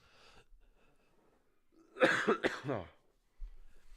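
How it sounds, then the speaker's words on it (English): A person nearby gives a couple of harsh coughs after a quiet stretch, followed by a brief breathy sound. "this cough is just annoying as hell"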